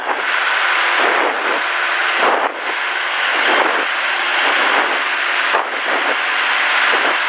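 A small plane's engine roars loud and steady through the takeoff roll, a broadband drone with brief dips in level, no voices on top.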